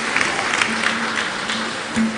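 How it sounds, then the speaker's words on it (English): Audience applause at a conference session in Nigeria fills the room as a steady, dense wash of clapping, moderately loud and continuous throughout. "A round of applause for the last session, the panelists, and the moderators."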